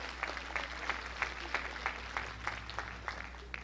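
Hands clapping in a steady, regular rhythm at a Sunday evening church service in 1985, likely a congregation clapping along; the claps are moderately loud over a low constant hum, with no speech.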